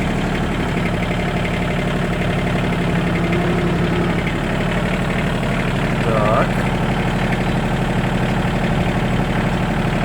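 An ISEKI GEAS21 mini tractor engine idles steadily with a low rumbling chug and faint rattle, while a voice speaks briefly nearby.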